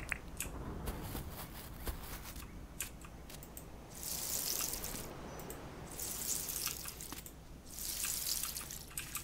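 Watering crops in the farming game Dinkum: steady running-water spray with dripping, swelling in three broad bursts, moderately close, with no voices.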